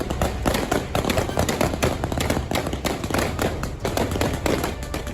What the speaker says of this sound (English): their protest was violently interrupted by the Taliban members, firing into the air